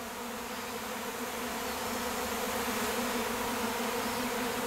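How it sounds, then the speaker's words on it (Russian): A steady, dense buzzing of a queenless honey bee swarm, continuous and even throughout, with no talking. "Пчелы везде."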